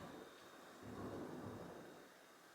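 Low, distant rumble of thunder swells in the middle and fades, faint under a steady hiss of rain.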